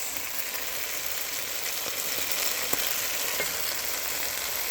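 Chopped onion and tomato fry in oil in a pan for chicken biryani, giving a steady, close, dense sizzle with faint stirring scrapes and no talking.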